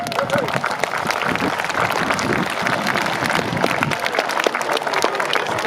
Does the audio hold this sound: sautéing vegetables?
no